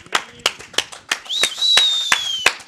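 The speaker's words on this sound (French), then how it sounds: "allez, on applaudit" Several sharp hand claps from a small audience during a French charity stream, spaced irregularly, with a steady whistle-like tone rising in the middle of the applause.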